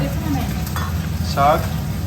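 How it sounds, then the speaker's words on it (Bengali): Steady sizzling of fish frying in hot oil, with a few stirring clinks and a brief scrape, continuous and close. "এই যে মাছ ভাজা চলছে"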